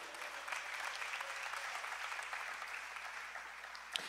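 Steady applause fills a church congregation, a dense, continuous patter of many hands clapping at moderate distance with no voices over it.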